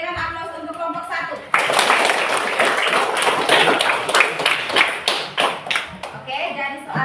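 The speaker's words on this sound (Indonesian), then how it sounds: "kita berikan aplaus untuk kelompok 1" A classroom group claps for the first team: a burst of dense, bright clapping starting sharply near the middle and running for several seconds, loud and close, with a voice talking before it begins and returning as it thins out.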